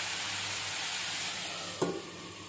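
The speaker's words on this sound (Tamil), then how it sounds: "தக்காளியும் இதோடு சேர்ந்து நல்லா வதங்கணும்" Tomato and onion sautéing together in a pan make a continuous, even sizzle, with a single brief knock of a spoon or lid near the end; no one speaks.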